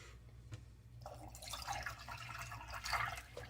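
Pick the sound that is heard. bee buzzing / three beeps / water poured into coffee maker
water poured into coffee maker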